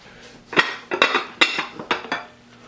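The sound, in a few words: lid put on casserole dish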